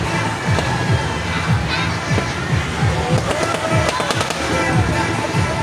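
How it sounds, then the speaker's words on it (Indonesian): Repeated sharp firecracker-like bangs from a kora-kora swing ride at a night market go off at irregular intervals amid crowd noise and voices, fairly loud and close. "Itu seperti suara mercon atau petasan, menandakan bahwa kora-kora masih berjalan."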